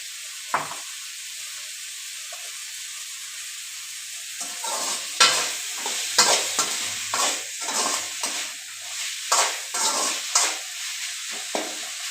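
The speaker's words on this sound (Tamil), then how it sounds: "இந்த வெங்காயம் வந்து ஃபுல்லாக வந்து குக்காக ஆக தேவைன்னா கொஞ்சம் எயிட்டி பர்சன்ட் குக்கானால் போதும்" Onions fry in a pan and are stirred with a utensil, giving a steady sizzle with repeated scraping and tapping strokes, close and clear, without speech.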